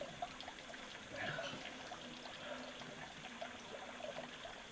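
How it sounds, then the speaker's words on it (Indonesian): Clear spring water trickles softly among the rocks of a mountain stream on Gunung Sibayak, a faint continuous babble with light splashes. "Dan ini merupakan sumber mata air yang memang ada di sekitar sini."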